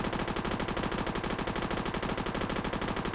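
Rapid automatic gunfire from an in-game weapon in the shooter Phantom Forces, a loud, continuous burst of evenly spaced shots held for several seconds.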